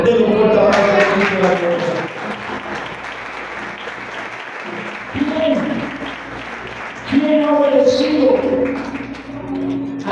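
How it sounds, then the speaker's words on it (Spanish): A church congregation applauds during a Sunday worship service, a dense wash of clapping running throughout, joined by voices and shouts over the crowd, with louder swells near the middle and end. "De un fuerte aplauso a Cristo de la gloria."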